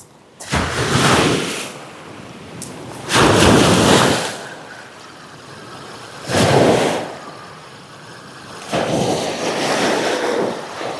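Waves surging up a shingle beach at Calshot on the Solent in winter, four broad washes of surf arriving every two to three seconds, each rising and fading with wind buffeting the microphone.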